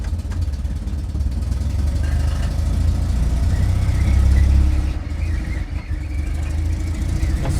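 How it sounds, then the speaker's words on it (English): The drive belts on an Invacar invalid carriage squeal continuously over a low engine drone, loud and close, swelling briefly midway before settling. "The belts are squealing away."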